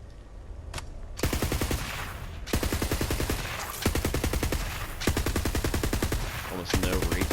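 SMG gunfire in the video game Borderlands 3 rattles in long rapid bursts with brief gaps between them, loud and close, each stream of shots running about a second.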